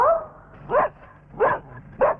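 A dog barks three times in short, evenly spaced bursts, close and fairly loud, with a brief whine at the start and no talking over it.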